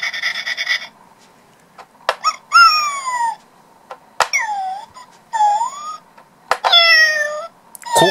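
An Ania Friends Tekuteku Garden toy garden in its call mode plays a series of synthetic cat meows one after another, each a rising and falling mew, clear and close with short gaps and small clicks between.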